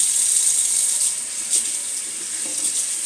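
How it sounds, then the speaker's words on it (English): Water streams from a sink tap as a plastic comb is rinsed, a steady thin hissing flow with small splashy bumps and no voices. "You want to wash off back your comb and put it back because you're done with your comb."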